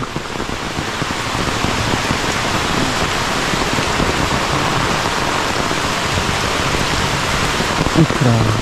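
Heavy rain pours steadily beside a swollen river, a dense, loud hiss of drops on surfaces that holds unbroken throughout, with a brief faint voice near the end.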